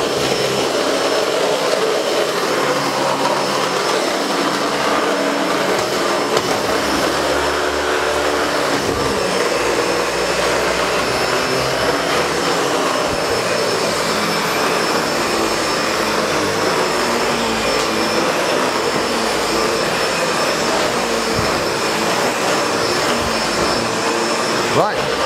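SEBO Felix vacuum cleaner running during a full house clean, a loud, continuous roaring whine held close for the whole stretch, with a voice speaking faintly underneath.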